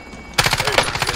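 Automatic gunfire in the video game Warzone bursts in suddenly after a quiet moment, a fast, even string of close, loud shots that runs to the end.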